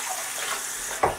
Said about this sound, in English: I'm just going to rinse them like this.